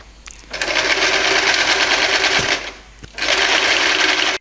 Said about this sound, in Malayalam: ഇങ്ങനെ തയ്ച്ചിട്ട് ഒരു സൈഡ് നമ്മൾ ഫുള്ളായിട്ട് തയ്ച്ചു പോകുന്നു.